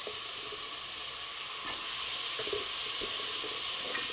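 Mushrooms fry in a hot pan with biryani masala, a steady close sizzle and hiss broken by soft stirring scrapes.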